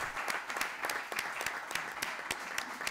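Council chamber audience applauding effusively after a town council motion is approved: dense, steady clapping with rhythmic accents, sustained throughout at moderate volume with no voices on top.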